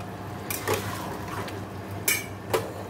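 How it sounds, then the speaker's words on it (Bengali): Chicken and potatoes being stirred in a pan with light oil and spices, a spatula scraping and knocking against the pan a few times over a low, steady frying hiss. "দেখো চিকেনটা ভালো করে এখন কষিয়ে নিচ্ছি"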